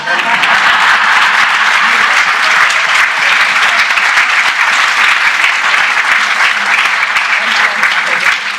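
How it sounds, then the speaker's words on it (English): Sustained audience applause fills a hall during a public conversation event with Javed Akhtar, a dense, steady clapping from a large crowd that stays loud and even throughout. "This was the time for clap."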